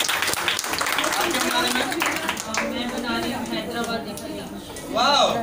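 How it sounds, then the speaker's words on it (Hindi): Loud applause and crowd chatter fill an Amway India office during a queen competition in Rohini, Delhi, with a voice speaking over the steady clapping throughout. "जोरदार तालियां पुरानी के लिए"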